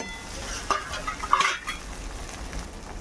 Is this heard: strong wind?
no